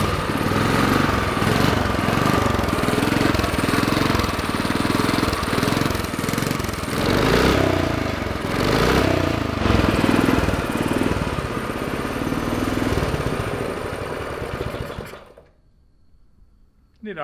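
A $20 mini bike's small engine starts and runs: a loud, rough, buzzing putter with a fluctuating rhythm for about fifteen seconds, then cuts off abruptly to near silence, with a person speaking over it.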